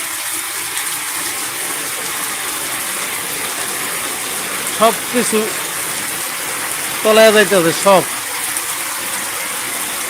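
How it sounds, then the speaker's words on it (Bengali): Heavy torrential rain that has been pouring for hours produces a dense, unbroken hiss, and someone speaks briefly over it twice. "দেখছেন কি পরিমাণে বৃষ্টি প্রায় দুই ঘন্টা ধরে বৃষ্টি হইতেছে"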